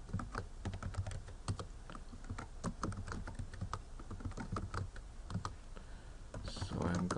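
Rapid, uneven clicking of computer keys as someone types a command in a Windows command prompt to run a Java program, close and steady throughout with a brief shuffle of handling near the end.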